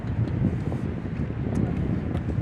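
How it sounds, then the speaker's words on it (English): Wind buffets the microphone in a continuous low, rumbling roar, steady and close with small gusty swells and no clear talking over it. "Got this damn wind blowing."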